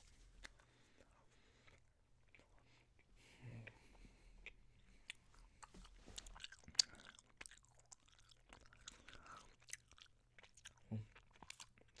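Chewing gum is worked close to the mic in quiet, intermittent squishy chews and small clicks with soft breaths between, all faint and intimate, and no spoken voice.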